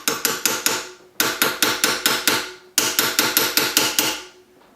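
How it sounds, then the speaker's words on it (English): A polished ball peen hammer strikes a metal hollow form ring in three quick rhythmic runs of five or six sharp, ringing blows, each run separated by a short pause, loud and close. "what I do have is a ball peen hammer, nice polished surface, and that is the right size"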